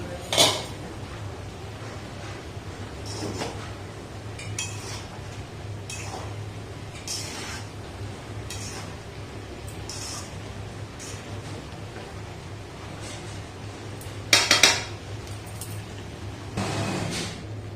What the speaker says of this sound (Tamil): இந்த டைமில் ஓப்பன் பண்ணி ஒருக்கா நல்லா மிக்ஸ் பண்ணி விட்டுலாம்